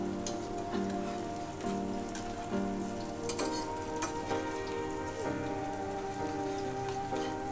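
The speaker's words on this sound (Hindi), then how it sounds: "अब हमें थोड़ी देर तक इनको फ्राई करना है और दूसरी तरफ पलटना है।" Arbi (taro) leaf pakoras frying in hot oil, a steady dense crackling sizzle that holds evenly throughout, close and continuous with no talk.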